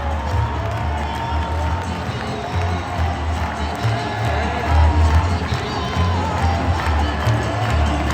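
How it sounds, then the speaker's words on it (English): A hockey arena crowd roars after a Minnesota Wild goal at Xcel Energy Center, a dense, sustained wall of cheering and shouting that swells in waves across the whole stretch with no break. "the Wild quickly put another one up on the board to make it 2-0, and the barn was absolutely buzzing"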